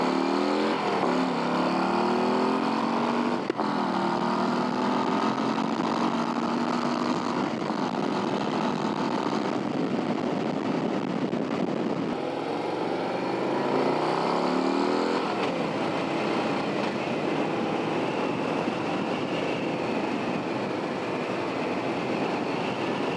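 A 2024 Harley-Davidson Road Glide CVO motorcycle engine roars up close, its pitch repeatedly rising as it accelerates through the gears, with a continuous rushing wind noise underneath.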